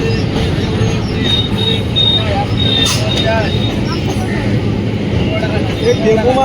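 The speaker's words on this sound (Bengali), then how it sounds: "এদিকে ডাউন ট্রেনটা ঢুকেছে" A down train pulls into a station beside a busy fish market, giving a continuous rumbling roar with faint high wheel squeals, while crowd chatter runs underneath.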